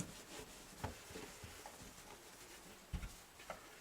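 A rag rubs polish across a Gibson J40 acoustic guitar's finish, making faint, close scuffing strokes in an uneven rhythm with a couple of slightly louder swipes.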